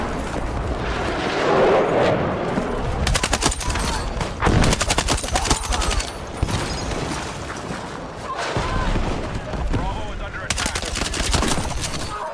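Rapid bursts of gunfire from the SVK-8.6 rifle in the Battlefield 6 shooter game, loud repeated volleys with short gaps, mixed with explosive impacts and chaotic battle noise throughout.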